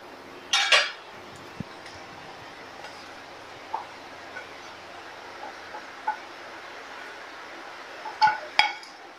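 Dough is moved onto a plate in a home kitchen, heard as a few scattered clinks and knocks of utensils against dishes, with a cluster of sharper clinks near the start and again near the end, over quiet background hiss.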